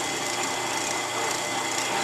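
A power drill bores holes in the metal front end of a VW trike, a steady, continuous whirring grind at moderate distance without pauses or voices.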